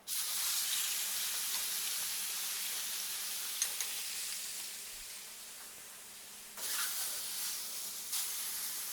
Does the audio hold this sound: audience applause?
no